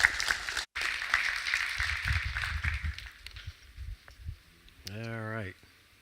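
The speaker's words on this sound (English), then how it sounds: "Let's give him a warm round of applause, please." Audience applause for a keynote speaker at an ISTA conference, a dense clatter of clapping filling the hall for several seconds, then fading as a voice begins speaking near the end.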